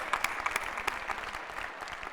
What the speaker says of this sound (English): Yes, that does deserve applause.